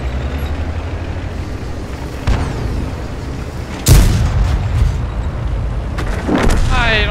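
Artillery shells strike a tank in World of Tanks, with several sharp booming impacts over a rumbling engine, the heaviest hit loud and close near the middle and another blast near the end.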